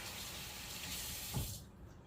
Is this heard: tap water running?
yes